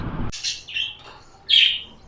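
Several bright, high bird chirps and tweets in quick bursts at a crowded bird market with parakeets, fairly close and loud, with a louder call near the end.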